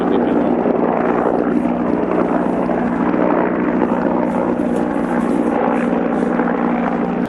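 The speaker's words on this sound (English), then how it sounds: "I can observe that I have a helicopter that's circling me." A helicopter circles overhead in an outdoor wilderness setting, its steady rotor drone continuous and fairly loud throughout, with no talking.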